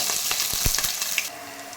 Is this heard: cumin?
yes